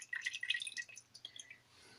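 Melted shea butter and coconut oil, about a quarter cup, pours into a container as a brief, close, faint trickle of bright liquid splashes and drips that tapers off.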